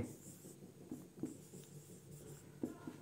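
Marker or chalk strokes on a classroom board during a Class 12 physics lesson on magnetism, with soft scratchy writing sounds and a few sharper taps as letters are finished, quiet and close with no talk.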